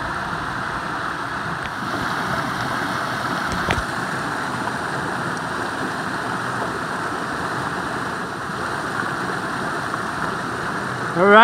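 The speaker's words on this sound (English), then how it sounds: "This is the south branch of the Carrabassett River. Right here, flowing nicely." The south branch of the Carrabassett River in Maine's Western Mountains flowing steadily, a broad continuous rush of moving water heard close by and fairly loud throughout, with no talking.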